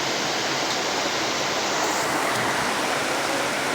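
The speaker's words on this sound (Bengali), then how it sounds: "অনেক সুন্দর বৃষ্টি হইতেছে।" Dense, steady rush of heavy rain falling with big drops, a continuous broadband hiss that stays loud and even throughout with no voices.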